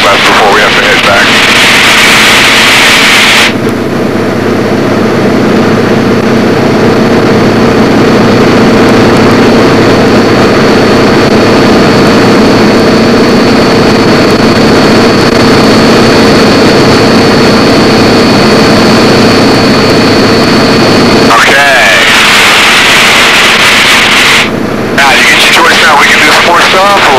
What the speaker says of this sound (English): Or you can just kind of fly the airplane around and sightsee.